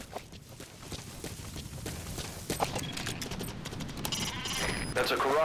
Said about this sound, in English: That's a Caracal sheep.